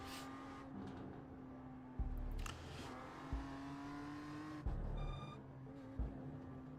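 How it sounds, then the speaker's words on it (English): Race car brake whistle in the iRacing sim: a thin steady high whistle runs over the engine drone, with short gear-shift thumps and revving surges at intervals, heard faintly. "Mate, the sound of that whistle from the brakes is wild."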